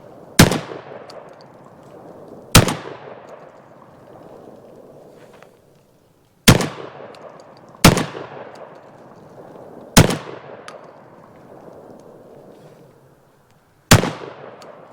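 Six loud semi-automatic firearm shots at an outdoor shooting range, each a sharp crack with a decaying echo, fired singly at irregular intervals of about two seconds.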